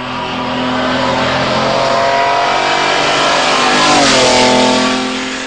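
BMW X5 Le Mans with a 700 hp V12 race engine revs hard and loud, a sustained roaring drone rising in pitch near the end as it accelerates, with no voices.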